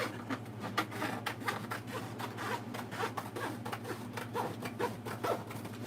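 Rough cutting material by hand to about an inch before folding it in, giving a rapid series of scratchy, rasping strokes close by over a steady low hum, with no talk.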